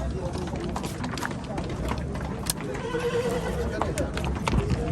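Horses whinny and hooves clop amid a busy, noisy outdoor horse market in Jalal-Abad, Kyrgyzstan, with people talking throughout.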